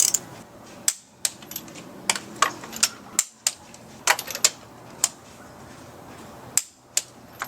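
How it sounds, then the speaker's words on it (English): A torque wrench tightens spark plugs on a BMW E36, giving a string of sharp, close metallic clicks, irregularly spaced, some in quick pairs, with soft handling noise between them and no talk. "So now we're just going to go down the line and torque them one by one."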